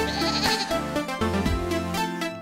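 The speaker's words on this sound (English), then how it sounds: "Mountain goat." A mountain goat bleats in a loud, wavering cry that runs through most of the stretch with short breaks, close and clear, over a steady tonal backdrop.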